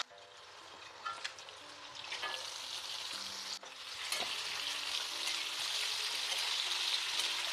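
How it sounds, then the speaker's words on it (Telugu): Boiled chicken liver and hearts fry in a pan with a continuous close sizzle that grows louder after a few seconds, broken by occasional stirring clicks. "అవి రెండు కలిపి ఫ్రై చేస్తాను"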